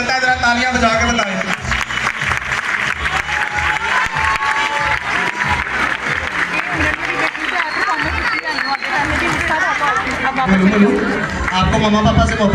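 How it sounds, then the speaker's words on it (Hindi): A classroom of children applauding together, a dense, steady patter of clapping mixed with crowd noise and chatter that carries through the whole stretch. "क्लैपिंग करो ना फिर।"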